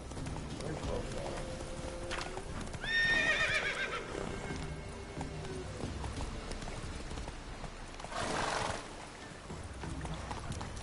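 A horse in The Witcher 3 video game, with rhythmic hoof clip-clop and a loud whinny partway through, while a person talks over the game sounds.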